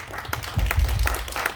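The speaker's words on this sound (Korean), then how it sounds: "박수." A youth church congregation gives a short burst of applause, scattered hand claps building into a brief patter in a room, moderately loud with no talk.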